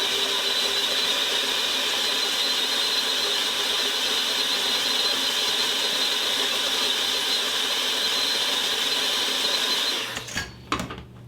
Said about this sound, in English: So we're going to use an electric mixer with whisk attachments.